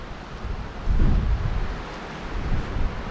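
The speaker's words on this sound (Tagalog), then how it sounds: "Grabing bagyo." A strong storm roars with steady wind and low rumbling thunder, swelling into heavier gusts in the middle and again toward the end, with no voices.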